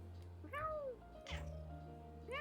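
A cat meows back and forth with a person imitating meows, a few short rising calls trading off quietly against a faint low background hum.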